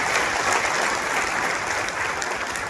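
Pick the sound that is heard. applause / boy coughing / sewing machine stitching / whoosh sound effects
applause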